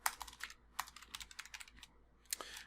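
Quick, uneven keystrokes tap on a computer keyboard as a command is typed, close and fairly quiet, with a brief denser flurry near the end and no voices.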